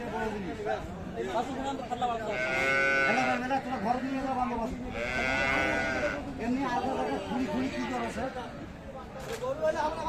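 Frisian cows and calves at the Aftabganj cattle market in Dinajpur moo in a few drawn-out, fairly close calls over steady crowd chatter and livestock bustle.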